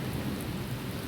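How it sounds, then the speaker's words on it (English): Rain falls in a steady, dense hiss that stays even throughout the short stretch, with no voice or other sound standing out. "So I love when it's raining"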